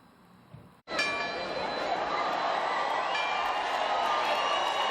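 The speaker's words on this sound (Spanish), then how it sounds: "volver a escuchar este repique de campanas anunciadoras de las fiestas patronales" Church bells peal from a village church in San Nicolás, Canary Islands, announcing patron saint festivities; after a brief quiet start, a loud, sustained metallic ringing with layered clanging tones fills the rest of the clip.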